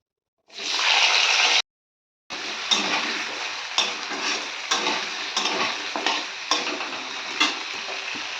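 Malabar spinach stems fry with pumpkin, potato and taro in a pan. A burst of sizzling comes first, then after a brief gap comes continuous frying hiss punctuated by repeated scraping stirs and utensil knocks.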